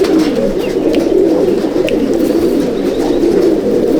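Pigeons of a Malwai breed cooing steadily in a loft, a continuous layered murmur of low throaty coos from several birds close by, with no voices.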